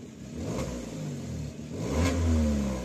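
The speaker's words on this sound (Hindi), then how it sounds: "अभी हम ऑन करेंगे एग्जॉस्ट।" Modified Maruti Alto 800 with a Borla valvetronic exhaust switched open, revving in short close bursts, the engine note swelling loudest near the end with no talk over it.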